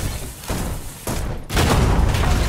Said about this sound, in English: Get ready for explosion!